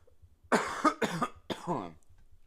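Three hoarse coughs in quick succession, close and fairly loud, against a quiet background.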